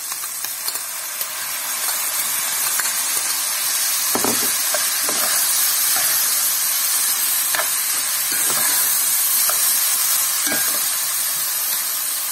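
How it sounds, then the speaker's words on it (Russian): Onions and cucumbers sizzle steadily in a hot pan while a utensil scrapes and stirs now and then, with occasional clicks over the constant frying hiss. "И будем вместе жарить"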